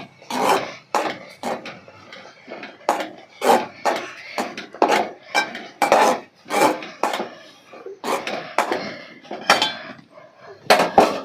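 Food being stirred in a pan with a utensil, a rapid series of about twenty close scraping and knocking strokes in uneven rhythm, with no talking.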